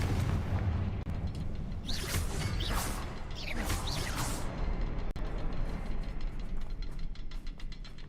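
Several rumbling blasts from the Confringo explosive spell go off in Hogwarts Legacy, heavy booms with whooshing bursts over a steady game background, loud and close, no talking.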